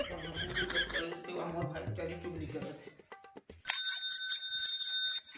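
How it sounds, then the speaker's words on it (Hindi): A bicycle bell rings loud and close in a few rapid bright trills after a stretch of chatter and chuckling, standing clear against a quiet background. "देखिए साइकिल के घंटी बाजत"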